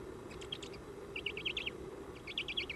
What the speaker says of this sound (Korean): 수리부엉이 새끼도 제법 자랐습니다.